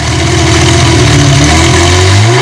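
A Ferrari 355 GTB engine runs loud and close at a classic European car show, a steady mid-pitched roar with rising revs and no talk over it.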